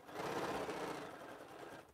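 A sewing machine stitches a quilt in a cramped home sewing space, its needle running in a steady, continuous fast whir that holds close and even for the whole stretch, with no voices.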